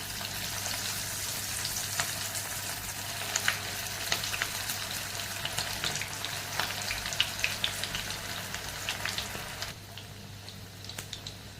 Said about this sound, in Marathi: रोल असे गोल गोल करून दोन्ही बाजूनी छान असे क्रिस्पी तळून काढायचे आहे